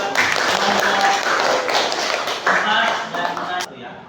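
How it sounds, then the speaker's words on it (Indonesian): A classroom of students gives steady, dense clapping for a group that has just presented, held at an even level for about three and a half seconds before stopping abruptly. "tepuk tangan buat kelompok"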